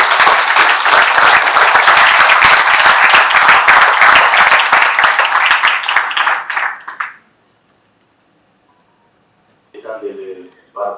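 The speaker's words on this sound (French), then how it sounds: "Sous vos applaudissements, s'il vous plaît." Audience applause at a book launch for a newly printed book: loud, dense clapping from a close crowd lasts about seven seconds, then stops abruptly into silence before a speaker talks briefly.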